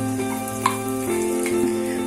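Steady sizzling and frying as ground masala paste is added to a hot pan for potato poori masala, with a brief clink of a utensil and soft stirring, no voices.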